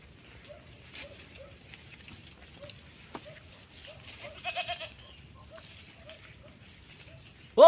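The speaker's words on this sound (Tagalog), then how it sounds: "Daming kambing." A herd of goats bleats in short, repeated calls from a distance at a fairly even pace, with a louder burst of sound right at the end.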